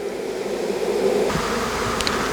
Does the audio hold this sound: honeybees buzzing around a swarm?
yes